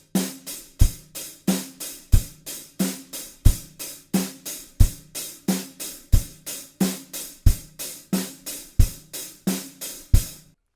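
Rock-style hi-hat groove played with the drumstick shaft on the cymbal edge: sharp, evenly spaced strikes with a brief wash after each, repeating steadily and close up with no talking.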